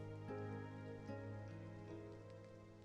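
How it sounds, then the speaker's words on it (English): Heavy rain falling in a scene from the video game Love and Deepspace, a steady, dense patter and hiss that stays even throughout, with soft tonal background music underneath. "Look how heavy the rain is."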